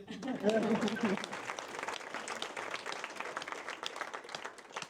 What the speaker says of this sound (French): L'équipe de direction, on peut applaudir